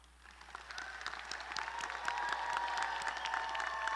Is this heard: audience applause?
yes